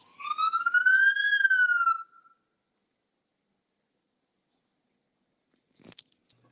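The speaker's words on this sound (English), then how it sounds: "I'm gonna wait for the siren to pass." A single siren wail rises and falls for about two seconds in the distance, then fades into silence. A faint clatter follows later.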